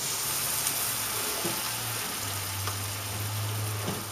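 Onions sautéing gently in butter in a pan, a steady soft sizzle and crackle at moderate level, with faint stirring taps and a low hum underneath throughout.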